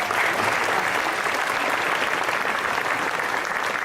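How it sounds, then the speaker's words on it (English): Dense, steady applause fills a banquet hall at a university alumni spring reunion, many hands clapping at once with no break and no voices on top. "Let's hear another round of applause."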